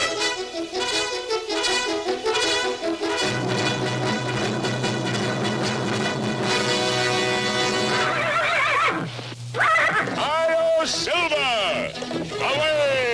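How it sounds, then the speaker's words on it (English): A horse whinnies loudly and repeatedly over dramatic music, with a voice speaking and some hoof clatter in an animated film soundtrack. "A fiery horse with the speed of light, a cloud of dust"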